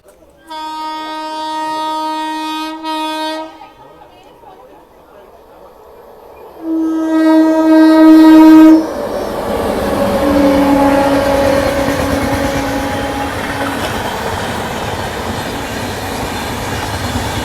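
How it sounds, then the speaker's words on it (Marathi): The Golden Temple Mail passenger train overtakes on the line beside a train held on a loop line near Valsad, sounding a long loud horn, then a steady rushing roar of wheels and carriages running past close by. "गोल्डन टेम्पल मेल ओव्हरटेक करते आपल्याला"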